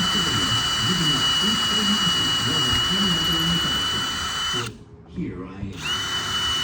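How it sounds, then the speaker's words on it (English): An air-powered drill re-drills a 1989 World Industries Barnyard skateboard deck through a 3/8 wheelbase jig, whining loud and steady up close with a brief stop before starting again, while someone talks over it. "let's re-drill this baby"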